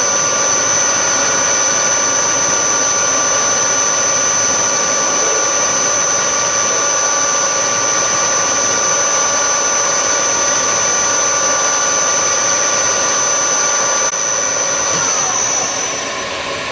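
A continuous, loud, high-pitched whine of a drill cutting metal on a milling machine, steady throughout with a constant motor hum.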